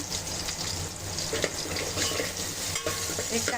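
Chopped onion dropped into hot oil with garlic cloves and curry leaves for a chicken biryani, a continuous close sizzle with light stirring and clatter in the pan, no voices.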